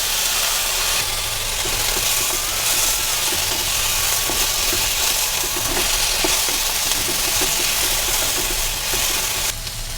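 Ginger and tomato sauté in a pan for chutney, a steady close hiss of frying with faint stirring scrapes running the whole time, no voices.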